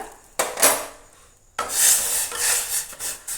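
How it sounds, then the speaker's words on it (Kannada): Jowar flour porridge being stirred in a pot, a utensil scraping and rubbing against the pot in two close bursts, the second longer, with brief silence between. "ನೋಡಿ ಈ ಥರ ಹಾಕಿದ ಮೇಲೆ ಹಿಂಗೆ ತಿರುತ್ತಾ ಇರಬೇಕು ಗಂಟು ಬರಬಾರ್ದು"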